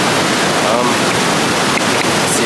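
Loud waterfall roaring as it crashes down, a steady broadband rush filling the whole clip with no breaks.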